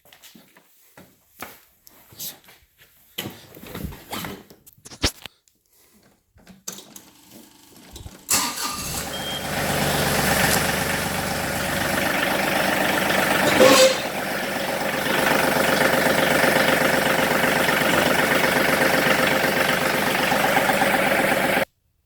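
A 2017 John Deere tractor engine cranks and starts after scattered clunks, then settles into a steady, loud idle and run that holds while the machine backs up, with one brief higher tone partway through.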